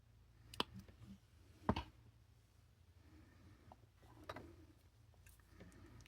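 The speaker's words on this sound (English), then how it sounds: "Now cut off my excess wire." Excess jewelry wire snipped with cutters while an asymmetric lariat is wrapped: a few sharp, quiet clicks spaced seconds apart over a faint, low room hum, with no talking.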